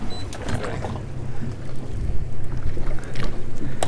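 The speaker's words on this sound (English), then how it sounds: "I'll keep the boat going." A boat sits out on open water during a deep-drop fishing trip, with choppy water slaps, rumbling wind buffeting and splashes close by, continuous and uneven, no voices.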